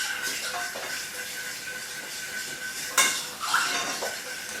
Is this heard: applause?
no